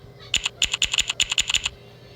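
Quick taps on a phone's custom keyboard sound as a run of about fifteen crisp, close clicks in an uneven rhythm, with a short pause early on and silence afterward.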